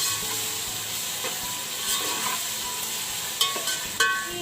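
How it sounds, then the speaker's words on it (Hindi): Coarsely ground green chillies frying for beef pulao, a continuous dense sizzle and hiss with a few sharp stirring clicks near the end, no voices. "ये भी डाल देंगे हम, और इसको हम 2 से 3 मिनट अच्छा सा भूनेंगे।"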